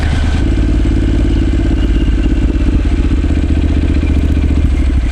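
A motorcycle engine held at high revs during a burnout gives a loud, steady, close roar with a rapid pulsing throb and a rattle running through it, and no talk.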